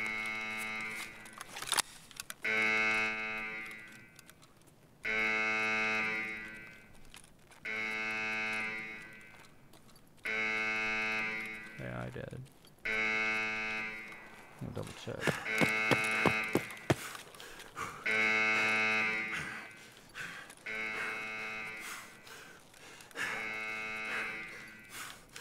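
Electronic beeping from the video game Escape From Tarkov, a Reserve raid: evenly spaced tonal beeps repeat across the clip with brief gaps, moderately clear and alone, with a few faint clicks mid-way.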